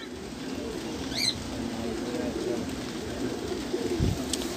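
Diamond pigeons in a loft coo in low, soft, rolling murmurs, with a few higher chirps and the steady rustle of the flock close by.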